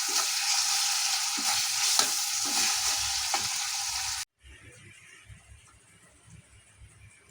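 Peas, potatoes and tomato stirred and frying with tempering spices in a pan, with a steady close sizzle and scraping stir strokes, then a softer, quieter stretch of frying after a brief cut.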